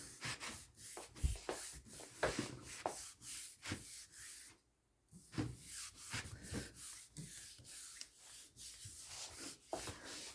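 Acrylic paint on a print over a gel pad being rubbed by hand, a close rhythmic scrubbing swish repeated steadily with one brief pause midway.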